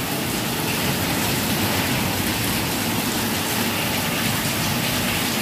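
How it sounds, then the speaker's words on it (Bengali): Heavy rain pouring down in a dense, unbroken hiss and patter on surfaces, loud and close, steady the whole time with no voices. "দেখো কত জোরে বৃষ্টি হচ্ছে।"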